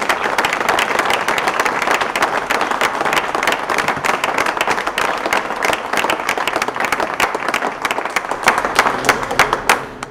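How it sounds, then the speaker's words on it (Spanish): Audience applause at a ceremony honouring a teacher, loud, dense clapping with sharp individual claps standing out, sustained for about ten seconds before starting to thin at the end. "Un aplauso otra vez a David."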